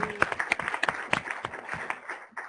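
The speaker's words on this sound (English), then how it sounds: "can we please get a round of applause for Sally, Carlos, Sebastian, and Ed?" A crowd claps in scattered, uneven bursts, loud and close, with no voices over it.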